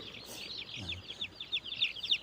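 Chickens held in a basket at a small Indonesian poultry vaccination session, clucking and chattering in a steady restless murmur with one lower cluck rising early on, close and moderately loud, with no talk.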